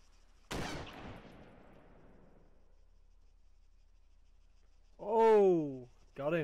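A single sharp sniper shot in ARMA 3 rings out and decays over a couple of seconds, followed by silence and then a voice speaking.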